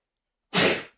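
A single sharp sneeze bursts out after a moment of silence, close and loud, then trails off quickly.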